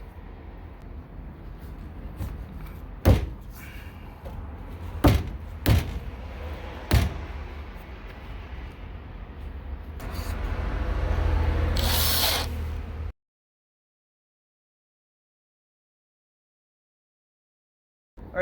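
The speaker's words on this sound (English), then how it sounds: "I'm gonna put in 2 screws going in through here" A power drill drives two screws into a wooden staircase handrail, with short bursts and sharp clicks giving way to a longer whirring run, loud and close, followed by silence.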